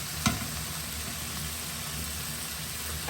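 Small haddock fillets sizzle steadily in a hot pan, a constant crackling hiss after a single soft clink near the start.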